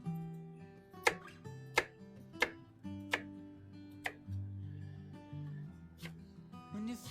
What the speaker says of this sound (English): I'm going to get my onion diced up and put in a bowl so I can get ready to cook that.